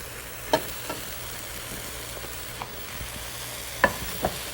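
Raisins and powdered spices stirred in a hot pan: a low steady sizzle with a few scattered spoon taps and scrapes, quiet and close, no voices.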